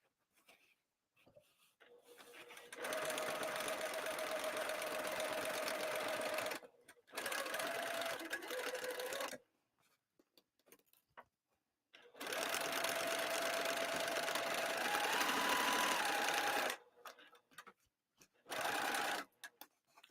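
A sewing machine stitches a fabric bag in several loud, close bursts of rapid mechanical whirring, separated by pauses filled with small handling noises.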